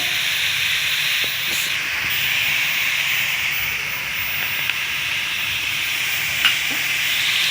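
Food sizzles in a pan while being fried for a paneer butter masala, a close, even hiss that carries steadily throughout with only a couple of small clicks and no talking.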